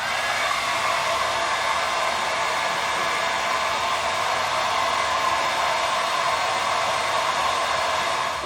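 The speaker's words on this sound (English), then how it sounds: "and the hair dryer." A hair dryer runs steadily with a constant, even whooshing hiss, close and loud, with no other sounds.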